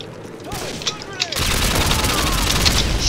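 Rapid pistol and automatic gunfire in Call of Duty MW2 rattles in a dense fusillade of sharp cracks, loud and continuous, with game effects mixed in.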